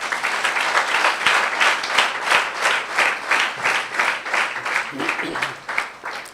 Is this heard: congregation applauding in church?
yes